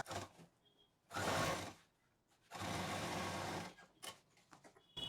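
Sewing machine stitching along the folded edge of a leftover-fabric doormat, two close bursts of motor whir separated by a quiet pause, with faint handling clicks in between.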